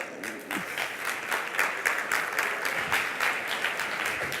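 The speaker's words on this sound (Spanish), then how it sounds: "Un aplauso muy grande a Antonio Fumero" A conference audience gives steady, rhythmic applause for web specialist Antonio Fumero, with many hands clapping at moderate loudness for several seconds.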